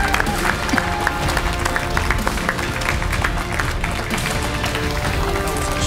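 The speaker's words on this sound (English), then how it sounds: "So let's give them a big applause and welcome Infectious down." Studio audience at a Street Fighter V esports match in the Gfinity Elite Series applauding to welcome players, a continuous wash of clapping under loud ambient hall noise and music.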